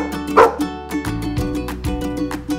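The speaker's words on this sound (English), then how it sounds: "A dog says woof woof." A dog barks several times in quick, uneven bursts, fairly close and loud, with some yips mixed in.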